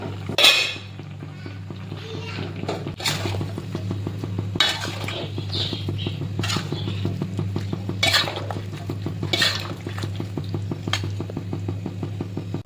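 A utensil stirs chicken curry in a metal pot on a gas stove, scraping and clinking against the pot every second or two over a low, constant burner hum, with no talk.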